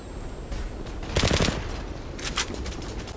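Gunfire in the online shooter Zula: two short rattling bursts of rapid automatic fire over a constant game background.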